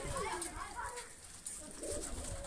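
Pigeons cooing and fluttering nearby while being fed mustard seed, soft bird calls heard close over faint background noise.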